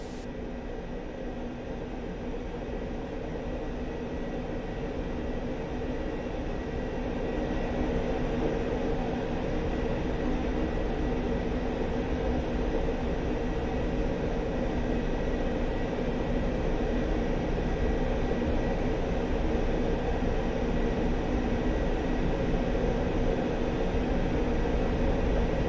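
Su-25T attack jet taxiing in the DCS World flight simulator, a steady, loud engine roar and broadband rumble that swells slightly after a few seconds and holds unbroken to the end.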